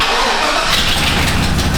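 Chevy 2500HD truck with a running problem starting up: a burst of engine cranking that catches into a loud, rough, close-up rumble.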